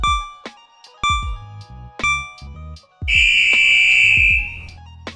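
A party movie-alphabet game timer ticks in sharp beats about once a second, then runs out with a loud, sustained electronic buzzer lasting over a second before fading.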